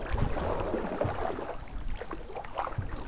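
Paddling a boat on a river, with steady broadband water and wind noise and faint irregular splashes of paddle strokes throughout, no talk.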